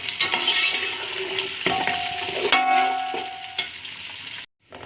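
Onions fry with ginger and garlic in a pan, giving a steady, close sizzle with spoon stirring and scraping, ending in a brief pause.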